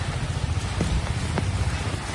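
Heavy rain pours steadily during Cyclone Fengal in Chennai, a dense continuous hiss with low rumble throughout, close and unbroken, with faint drops and no voices.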